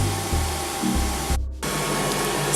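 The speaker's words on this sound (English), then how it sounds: "I'm gonna add a little bit of heat with my blow dryer" A handheld blow dryer runs close by, a steady roaring whoosh of air aimed at conditioned locs, with low bumps as it moves and a brief dip in the airflow partway through.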